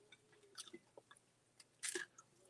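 Crunchy fried jackfruit fritters are chewed up close, a few quiet irregular bites and crunches with one louder crisp crunch near the end, over a faint background hum.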